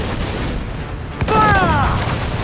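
Ship cannons fire in the pirate game Assassin's Creed IV Black Flag, a loud deep boom bursting out amid dense noisy battle ambience, with a shouting voice and a tonal wail sweeping over the blast.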